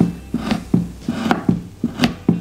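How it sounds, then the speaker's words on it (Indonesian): A knife chops palm sugar repeatedly on a small wheat-straw cutting board, about eight firm thuds in an uneven rhythm, close and clear. "Sekarang saya mau memotong gula merahnya."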